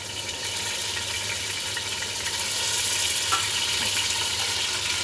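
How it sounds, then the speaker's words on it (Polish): Meat frying in batches in a pan, a steady close sizzle with constant crackling hiss that swells slightly louder partway through, with no voices. "dzięki temu, że to jest dodawane partiami, nie wszystko naraz, to się smaży, a nie dusi"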